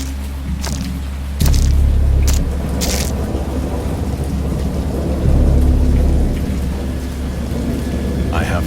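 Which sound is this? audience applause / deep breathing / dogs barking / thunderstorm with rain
thunderstorm with rain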